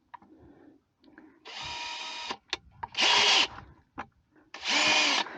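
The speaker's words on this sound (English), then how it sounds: "I'm drilling the holes pretty much" A power drill whirs in three bursts of a second or so each, grinding through a plastic 5-gallon bucket, with short clicks and handling noise between them.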